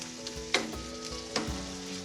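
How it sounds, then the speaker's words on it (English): Pork mince and garlic stir-fry in a pan with a constant close sizzle, broken by two sharp stirring scrapes, with faint music underneath. "Now we're just going to stir fry that together."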